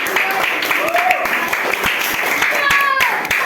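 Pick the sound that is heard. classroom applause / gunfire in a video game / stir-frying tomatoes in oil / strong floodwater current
classroom applause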